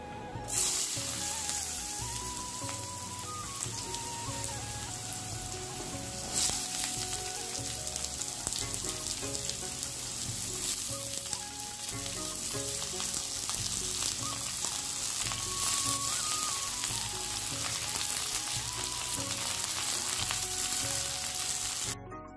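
Potatoes frying in a pan beside freshly made luchi, a loud, constant crackling sizzle that holds steady for the whole stretch with a soft melodic tune running beneath it.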